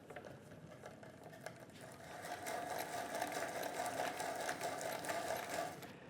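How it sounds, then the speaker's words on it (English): A steady, whirring mechanical drone of a 1-inch bit boring holes in wood in a workshop, faint and continuous, growing slightly fuller partway through with no talking. "So I'm going to bore my holes with a 1-inch bit on those crosshairs."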